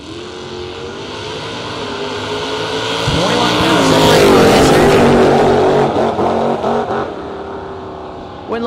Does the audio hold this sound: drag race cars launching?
yes